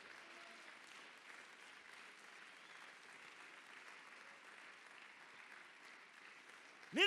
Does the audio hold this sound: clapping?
yes